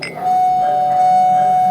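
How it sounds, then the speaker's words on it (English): A doorbell lets out a single sustained electronic chime tone, steady and loud, following a brief soft onset, with no voices. "the doorbell rang again"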